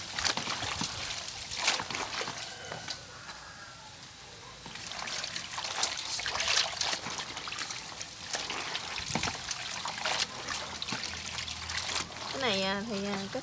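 Fresh tofu skin being rinsed and soaked in a bowl of salted water, with steady trickling, sloshing and dribbling throughout, near and moderately loud.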